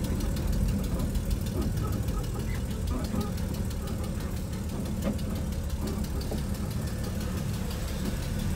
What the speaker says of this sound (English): this thing's running just a little bit rough. Sounds like it's maybe got an exhaust leak too.